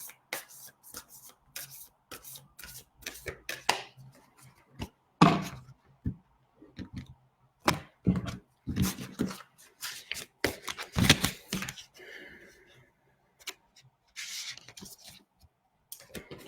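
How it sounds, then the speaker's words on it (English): Oracle cards are shuffled by hand in a quiet room, producing repeated soft riffling and slapping bursts in irregular rhythm, close and moderately loud, with brief pauses between handfuls. "I will pull 2 cards."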